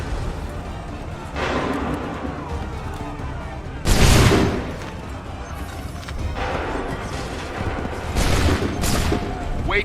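A musket volley in Assassin's Creed 3 breaks out in several loud, crashing bursts of gunfire spread across the moment, heavy and close. It comes over continuous battlefield noise and is mixed with shouted voices.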